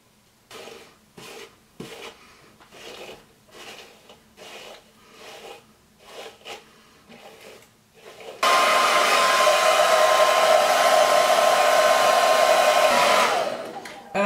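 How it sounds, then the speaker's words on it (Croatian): A hair dryer dries hair after a series of soft, rhythmic brushing or combing strokes. It then switches on with a loud, steady whir that runs close to the microphone for about five seconds before cutting off. "ja ću sada šešljat kosu i osušit fenom"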